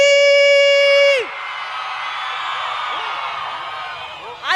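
A large crowd at an EFF political rally in Katlehong, South Africa, roars and screams together for several seconds after a loud sustained shout from the stage, the cheering broad and echoing, with a voice returning at the end.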